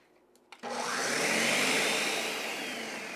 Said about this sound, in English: We're gonna put that in, and we're gonna finish frothing.